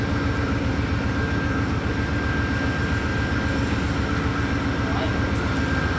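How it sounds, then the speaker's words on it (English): A steady, loud rumble of Amtrak passenger train 448 departing Buffalo Depew Station, rolling along the tracks, continuous and close, with no talking. "Amtrak 448 could now depart Buffalo Depew Station, almost 3 hours behind schedule"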